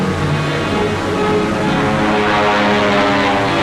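Propeller engines of Wildcat fighter planes drone steadily and loudly throughout, a continuous close airplane roar with no breaks while hunting a submarine.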